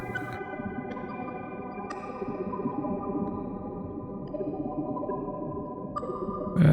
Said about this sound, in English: I wanted an actual major 7 chord